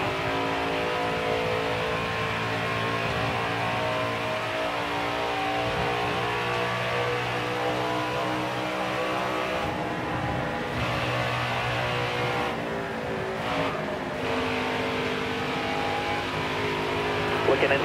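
Race truck engines in NASCAR Heat 4 at Charlotte, a continuous loud droning roar with shifting pitch as trucks run together, a spotter's voice talking over the engines throughout.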